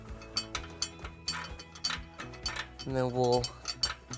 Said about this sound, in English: turn the bolt head from the other side until it is attached